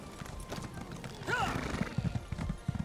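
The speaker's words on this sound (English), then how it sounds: "Is it considered rude to ride a horse in the city when there's a lot of people?" Horse hooves clip-clop steadily while riding through the city streets of Balmora in The Elder Scrolls Online, with a brief whinny partway through and faint background voices and game sounds.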